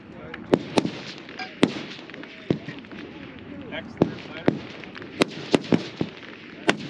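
Sharp rifle reports from F-Class long range shooting at a 1000-yard match, about a dozen loud cracks spread irregularly over a steady outdoor background hum, some close and some more distant from neighbouring firing points.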